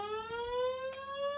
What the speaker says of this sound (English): The fire alarm has been activated on the 18th floor.